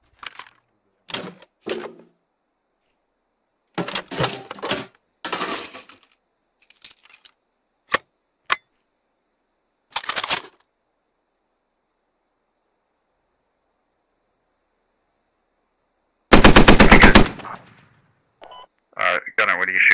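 A gunner's rapid burst of automatic gunfire rings out once in the tactical shooter game Squad, set among short bursts of voice chatter and brief clicks between teammates.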